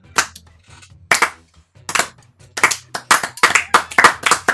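Hand claps at a leisurely pace among friends playing a party game, sharp bursts spaced about a second apart at first, then speeding into a denser run of claps toward the end, with no speech.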